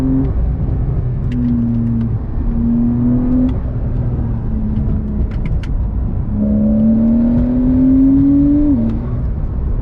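A rear-engine Porsche 911 Carrera S drones nearby as it drives, its pitch rising and falling through shifts and a long climbing rev near the end.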